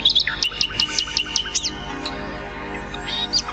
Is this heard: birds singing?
yes